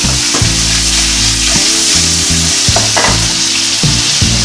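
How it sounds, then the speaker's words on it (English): Bacon sizzles loudly and steadily in a pan while it is pushed around, with scraping and clicking strokes from the stirring breaking through the constant frying hiss. "I'm going to just go ahead and move the bacon around so everything gets nicely distributed"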